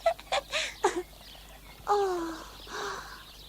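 Birds chatter among pine trees in a series of short chirps and warbling calls, close and fairly clear, with brief pauses between bursts and quiet background hum.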